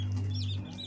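Newly hatched chicks, just taken from an incubator and kept in a cardboard box, give a few high, thin cheeps over a low steady hum.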